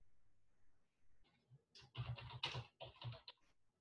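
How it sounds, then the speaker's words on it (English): Computer keyboard typing in a quiet room, a short burst of quick, fairly faint key clicks in an uneven rhythm with brief pauses, no voices. "I'll type that in here."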